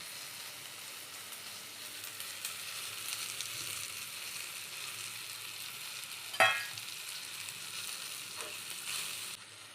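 Tomatoes and spices sauté in a pan for masoor dal bhaji, a soft continuous sizzle with a single sharp clink of a utensil partway through.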